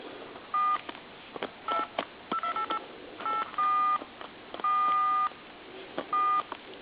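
An AT&T Mickey Mouse Trimline telephone with a faulty keypad dials numbers on its own, giving a string of short two-tone dial beeps in irregular bursts, some brief and some held longer, close and clear with no talking.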